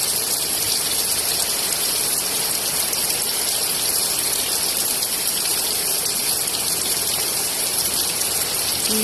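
Heavy rain pours down steadily and loudly, a dense continuous hiss and patter of drops close by with no break across the whole stretch.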